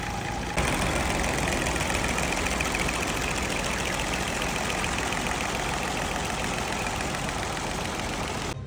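A small engine idles steadily with a rhythmic knocking clatter from its loose valve, before the valve gets adjusted; the loud mechanical running starts abruptly and continues unbroken to the end.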